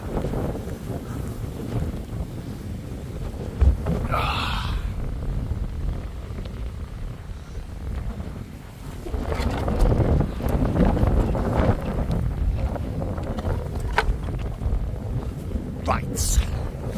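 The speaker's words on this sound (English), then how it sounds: "Bloody windy again." Strong wind buffets the microphone at a churchyard camp near a haunted church, a steady low roar with gusts that swell louder in the second half.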